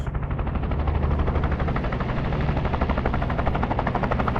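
Steady, loud engine drone inside a transport plane in the VR battle royale game Virtual Battlegrounds, a continuous rumbling roar with a fast pulsing flutter throughout, no one talking.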